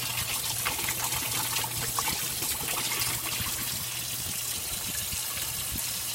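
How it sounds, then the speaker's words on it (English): Three-month-old spoiled milk glugs and gushes from a bottle in thick clumps, a steady close-up pour over a low background hum. "Coming out in big clumps of dead milk."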